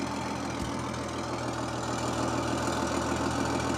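Twin diesel engines of a Sherman Firefly tank idling, a steady low rumbling drone with a throbbing pulse and a faint knock, heard close up with no speech.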